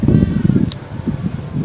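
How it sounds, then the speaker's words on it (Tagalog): Goats on a small farm, several close, loud bleats in quick succession, rough and wavering, with a voice briefly mixed in. "Kailan pa po kayo nag-aalaga ng mga kambing?"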